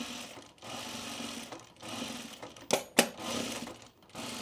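Home sewing machine stitching topstitching thread through a pre-quilted jacket, a quiet steady run of rapid needle chatter with brief pauses and a couple of sharp clicks.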